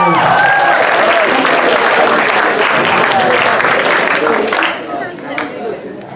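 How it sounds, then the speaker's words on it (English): A crowd fills the room with loud, dense applause at a comedy hypnosis show, steady for several seconds before thinning out to a few scattered claps, with voices heard beneath it. "Give them a big round of applause,"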